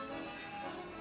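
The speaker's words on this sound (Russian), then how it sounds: "Вот у нас это там колокольчик." A small bell ringing inside a garmoshka accordion recording, a bright continuous metallic tone held steadily through the short stretch with no talk.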